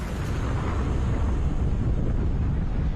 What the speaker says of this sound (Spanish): la plataforma es sacudida por una explosión